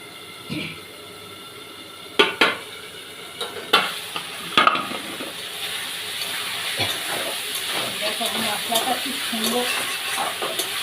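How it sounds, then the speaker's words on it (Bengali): Spice masala for a fish curry stir-frying in oil, a soft bubbling sizzle that builds and thickens, punctuated by several loud spatula knocks and scrapes against the pan early on. "তেল বেরিয়ে যাচ্ছে দেখো আমার একটু কষে নিই ভালো করে"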